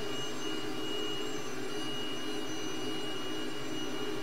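T-37 jet aircraft in flight at about 250 knots, its engine giving a steady high-pitched scream with a sustained whine and constant broadband roar, no talk.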